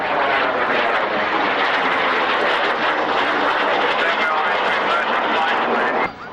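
A display aircraft's engine drones loud and steady at an Army Air Corps airshow, holding a continuous powerful roar before cutting off abruptly near the end.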